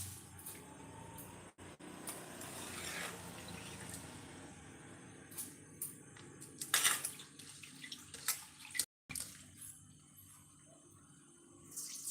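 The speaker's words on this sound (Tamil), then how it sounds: "தண்ணியை வடிகட்டிடலாம்" Water drains and splashes from soaked biryani rice, with intermittent pouring bursts and drips, near and fairly quiet, with brief gaps and clatter.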